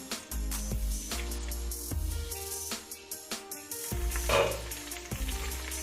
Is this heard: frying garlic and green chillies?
yes